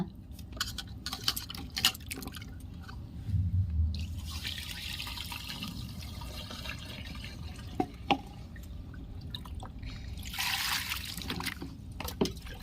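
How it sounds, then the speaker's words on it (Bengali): Small potatoes being washed in water by hand, with soft drips, trickles and splashes coming and going in a quiet setting, a few sharper knocks scattered throughout. "আলু ভালো করে ধোয়া হয়ে গেছে"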